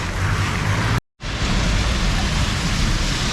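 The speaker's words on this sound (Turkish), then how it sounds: "bayağı kötü yakalandık yağmura ya" Steady, dense hiss of rain pouring down close by, broken by one brief silent gap, with no voices.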